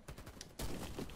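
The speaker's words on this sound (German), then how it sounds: "die so mit einem Schuss oder so wegzuholen mit der Schrotflinte" Shotgun blasts in the game Warface: a few quick muffled pops, then one heavier close blast with a rumbling tail, short and loud, no talking over it.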